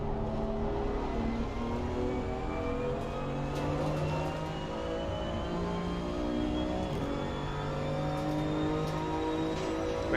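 A race car engine in a racing video game, qualifying for the M2 Cup on the Nürburgring, holds a steady moderate drone with rising pitch sweeps and small gear-change dips, no talking over it.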